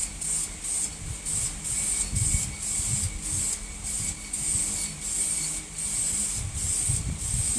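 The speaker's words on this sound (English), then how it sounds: "We're going to shoot her again, the whole motor. Really get that shiny look to her with that silver." Aerosol spray cans hiss silver paint onto a Ford 302 engine block in a backyard build, in a steady series of short bursts with brief pauses between, fairly close and unaccompanied by talk.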